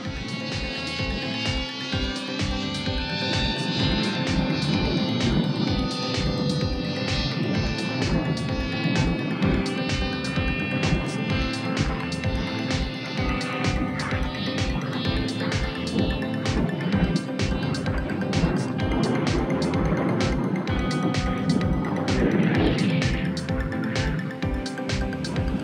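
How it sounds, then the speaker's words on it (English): ZOHD Dart XL electric RC plane passing overhead at about half throttle, a steady buzzing motor whine held for a long stretch with a constant wind rumble throughout. "Come through for a nice little flyby here."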